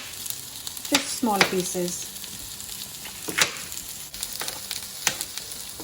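Red peppers frying with onions and potatoes in a pan, a steady close sizzle with occasional stirring clatter and a few short spoken words over it.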